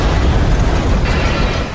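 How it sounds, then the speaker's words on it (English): An explosion during a tornado in an industrial complex of steel buildings, a loud, roaring blast of noise that rumbles continuously and fills everything, dense and overwhelming without a clear break. "And then an explosion."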